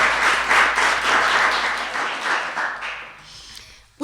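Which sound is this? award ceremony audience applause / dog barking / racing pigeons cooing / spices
award ceremony audience applause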